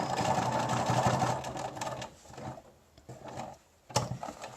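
A domestic sewing machine stitching the shortened sleeve of a button-up shirt, running in a steady mechanical whir with short back-stitch stops and starts, close and clear.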